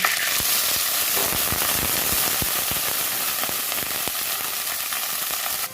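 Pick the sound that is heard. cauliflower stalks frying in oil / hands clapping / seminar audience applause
cauliflower stalks frying in oil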